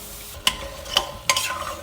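A spoon scrapes through goat meat with paprika, kasuri methi and meat masala in a frying pan, three distinct close stirring strokes over a soft, continuous sizzle.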